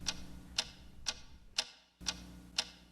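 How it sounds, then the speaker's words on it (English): A weird ticking sound in a Super Mario 64 parody: six sharp, evenly spaced clock ticks about half a second apart, loud and close, over a low hum that briefly cuts out near the end. "What is that weird ticking sound?"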